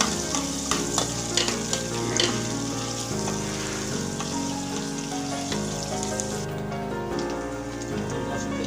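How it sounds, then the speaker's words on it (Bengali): Chopped garlic and chili with onion and garlic paste stirred in a hot oiled pan for an eggplant and tilapia dish, a dense crackling sizzle with rhythmic spatula scrapes, loud and close, under a steady tonal background of music, without speech. "এরপর আমরা এটাকে নেড়ে চেড়ে দেবো।"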